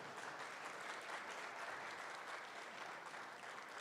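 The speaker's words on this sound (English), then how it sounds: "Another round of applause, man." A conference crowd at the Seminole Tribe of Florida Renewable Energy and Sustainability Conference applauds in a continuous, even roar of many hands clapping, fairly distant and uniform throughout.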